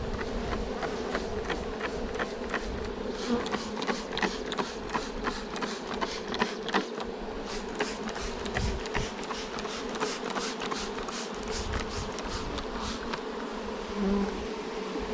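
Honeybees swarm over the frames of an opened hive during a mite inspection, a dense, steady buzzing hum of many wings close by, dotted with small ticks and clicks and no voices.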